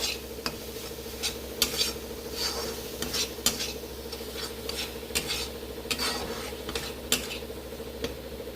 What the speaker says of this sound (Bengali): মশলাটাকে কিন্তু বারবার এরকম নাড়াচাড়া করে আমি কষাবো।